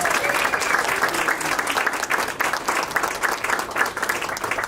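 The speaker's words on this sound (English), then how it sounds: "So let's give them a round of applause." An audience applauding at an inaugural flight celebration, dense steady clapping close and continuous for several seconds, with little else heard.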